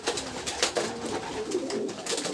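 Pigeons coo softly in a loft, several low rolling coos repeating close by amid faint rustling, with no talk.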